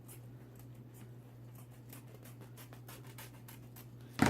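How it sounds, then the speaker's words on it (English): Scissors cutting through folded craft material for a Dollar Tree patriotic wreath, a string of soft, quick snipping and scraping strokes close by over a steady low hum, ending in a louder clack. "I'm going to cut right through here by going right in the middle"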